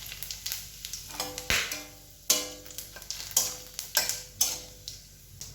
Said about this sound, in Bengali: কড়াই ওই তেলের মধ্যে গোটা জিরে, শুকনো লঙ্কা, তেজপাতা ফোড়ন দেব।